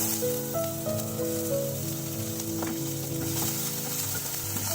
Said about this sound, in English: Saute them on high heat for 30 seconds.